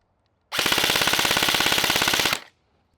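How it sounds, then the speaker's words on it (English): A Double Bell M4 gel blaster fires on full auto in one loud, close burst of about two seconds, with rapid evenly spaced shots and no talking. "So now let's quickly reset the chrono and we'll check the rate of fire on full auto."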